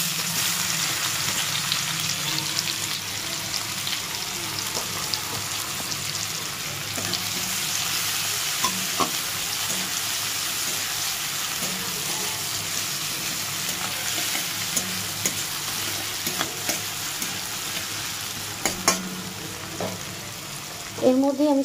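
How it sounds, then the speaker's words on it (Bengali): Chopped onion sizzles in hot oil with tempering spices for a prawn and Malabar spinach dish, a steady broadband frying hiss throughout with occasional utensil scrapes and a few clinks near the end, no voices. "ফোড়ন দেবো। এবার দিয়ে দেবো কুচো পেঁয়াজ।"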